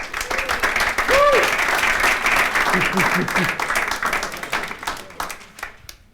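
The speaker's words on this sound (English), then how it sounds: "Give him a big round of applause." Applause from an audience at a property rent-to-rent masterclass fills the room, steady broadband clapping that tapers off toward the end, with some voices mixed in.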